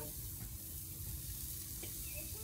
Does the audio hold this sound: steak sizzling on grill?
yes